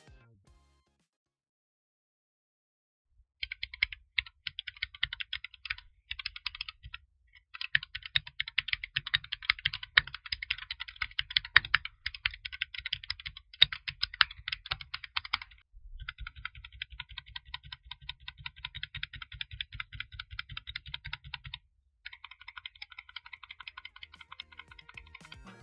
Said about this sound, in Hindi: इस साउंड टेस्ट में ये जो कीबोर्ड है इसका साउंड और भी ज्यादा निखर के आ रहा है